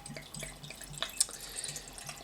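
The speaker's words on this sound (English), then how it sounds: "Let's get it poured in the glass." Pumpkin cider poured from a bottle into a glass, a soft, close liquid splashing and trickling with small drips throughout, fairly quiet.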